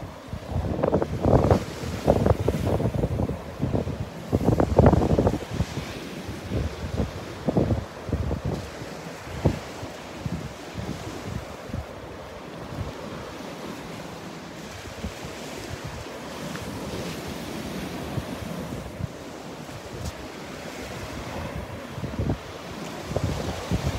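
Ocean waves wash up on the beach at Delnor-Wiggins on a blustery morning, with strong wind buffeting the microphone. The surges are loudest early on, then settle into a steady roar.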